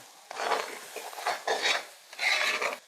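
Jackfruit cooked down with sugar and cardamom is stirred in a pan, giving three close, rasping scrapes of a spoon against the pan, each lasting about a second, with short pauses between them.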